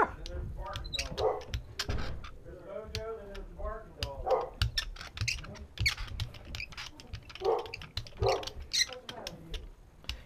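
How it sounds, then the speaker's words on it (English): A dog barking indoors at someone arriving at the house, several sharp barks scattered among closer conversation. "Babe's barking."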